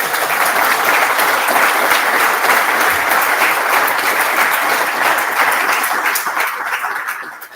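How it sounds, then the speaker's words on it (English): Sustained audience applause in a room after a cardiac arrest training event, steady dense clapping at even loudness throughout before tapering off at the very end. "So I think a round of applause."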